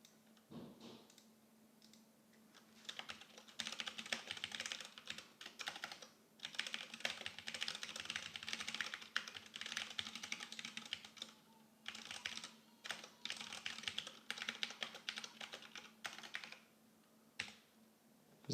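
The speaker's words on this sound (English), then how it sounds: "So I might have to type this out manually." Manual typing on a computer keyboard while working in a virtual machine, with bursts of rapid key clicks separated by short pauses over a steady low hum, close and moderately loud throughout.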